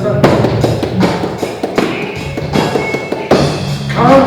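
A drum groove beat with busy, closely spaced thumps and taps plays near and loud in a steady pattern, with occasional sharper accents, and no voice over it.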